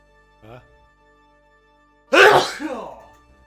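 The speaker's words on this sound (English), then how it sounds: "Yeah, I'm gonna sneeze soon." A single loud, explosive human sneeze bursts out close by, preceded a moment earlier by a brief quiet vocal catch, over a faint steady background tone.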